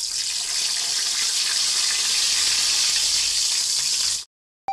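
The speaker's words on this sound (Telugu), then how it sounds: "తాలింపు సరుకులు వేగాక స్టఫ్ చేసుకున్న వంకాయలు వేస్తున్నాం." Stuffed brinjals drop into hot oil tempered with mustard seeds, chana dal and cumin, giving a loud, close, continuous sizzle that stops abruptly near the end.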